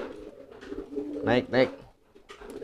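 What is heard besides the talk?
fantail pigeon cooing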